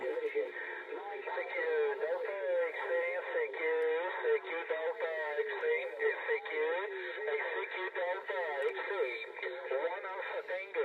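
Busy CB radio chatter on a President Jackson export set, with overlapping, band-limited voices talking continuously through a thin, crackly speaker tone.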